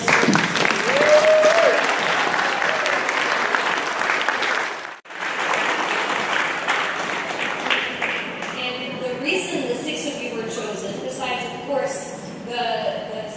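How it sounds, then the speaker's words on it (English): An audience at a middle school excellence awards ceremony gives a big round of applause, sustained dense clapping from a large crowd that dips briefly, then carries on under scattered cheers and chatter. "let's very much so give one last big round of applause to these middle school"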